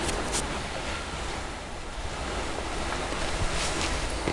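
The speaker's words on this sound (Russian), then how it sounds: "Берег Каспийского моря у города Ахтау." Waves wash steadily onto the Caspian Sea shore near Aktau, a continuous broadband surf roar mixed with wind buffeting the microphone.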